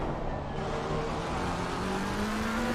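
GT3 race cars, including a McLaren, racing at the Zolder circuit, engines roaring steadily with rising pitch as they accelerate out of a tight right-hander, loud and continuous.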